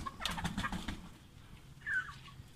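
Chickens cluck and chatter softly nearby, a quick run of calls followed by a single higher squawk after a short pause.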